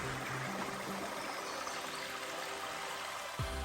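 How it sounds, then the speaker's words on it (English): A stream flows down off a hill at a forest nature preserve with a steady, broad rush of running water, continuous and moderately close, with no voices over it. "The water coming down off the hill."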